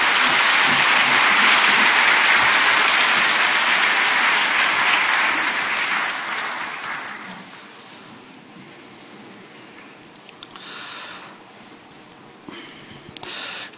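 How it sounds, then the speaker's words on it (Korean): A large congregation at a late-night Holy Week church service applauds loudly to welcome a pastor, a dense sustained roar of clapping that fades after several seconds into scattered claps and room noise. "우리 박수로 귀한 목사님 환영하며 말씀 드리겠습니다."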